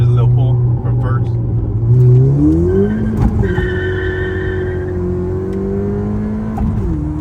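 Ford Fiesta ST with a downpipe and E30 tune pulls hard from first gear, engine note rising steadily through the rev range with a loud, close exhaust drone and faint whistling, then easing off near the end.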